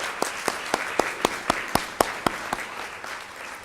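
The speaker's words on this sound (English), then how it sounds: "Round of applause." An audience claps at a commencement ceremony for Master of Science graduates held at the Historic Hotel Bethlehem, with sharp, evenly spaced claps ringing out in a steady rhythm and no talking.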